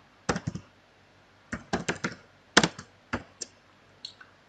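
A computer keyboard clatters as PHP code is typed, in irregular clusters of crisp close keystrokes with short pauses between bursts and no talking.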